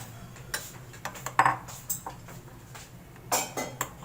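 Spanish omelette batter with egg whites being mixed in a bowl: scattered clinks and scrapes of a utensil against the bowl, irregular and close, over a low steady hum.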